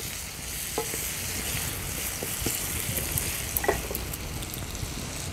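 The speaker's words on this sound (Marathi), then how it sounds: "टोमॅटो पण छान परतून घ्यायचा आहे।" Chopped tomato sautés in a pan for a dry fish tawa masala. Close, even frying hiss continues with occasional stirring scrapes and small pops, and no voices are heard.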